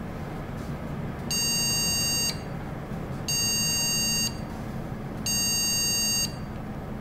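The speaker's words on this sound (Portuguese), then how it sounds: "Se ele encontrar algum tipo de problema, ele pode gerar vários bips de forma intermitente." Three long, evenly spaced computer POST beeps from a PC motherboard sound against a quiet background hum, each about a second long with short gaps between.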